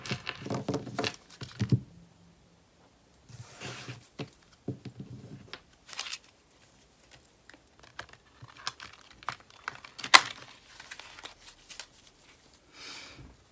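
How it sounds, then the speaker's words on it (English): Tarot cards are shuffled in several quick bursts of riffling and shuffling, separated by short pauses in an otherwise quiet room. "Let's give it one more shuffle."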